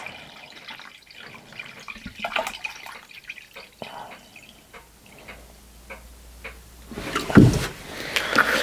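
Vinegar poured in a stream into a container to mix a nickel plating solution, a soft trickle with clicks that swells into a louder gush near the end.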